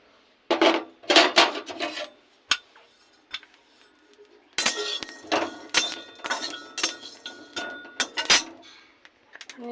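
Whole cumin, coriander seeds and cloves being dry-roasted in a hot wok, heard as irregular clusters of light rattling, scraping and clinking from stirring against the metal, close and fairly crisp, with brief quiet gaps between bursts.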